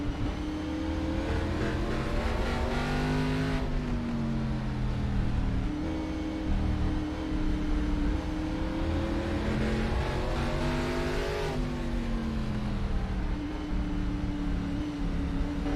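Race car engine roars loudly and steadily past on the rough short track at South Boston during an all-star late model event, pitch rising and falling as cars accelerate through the turn, dense continuous drone with no talk.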